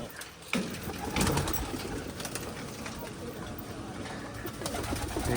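High-flying pigeons coo continuously inside breeding cages in West Bengal, their soft rolling calls overlapping at close range, with occasional rustles and movement noises in the cages.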